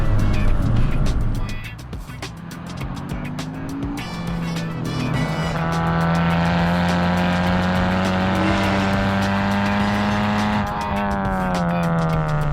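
A Honda Civic Type R engine, fitted with a downpipe and exhaust, revs hard and climbs through the gears, the pitch rising, dropping at a shift, then climbing again, loud and close from inside.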